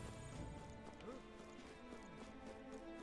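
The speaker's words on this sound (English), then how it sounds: "Horse." Horse hooves clip-clop at a steady walking pace in the video game Metaphor: ReFantazio, fairly quiet, under a murmuring voice and faint background music.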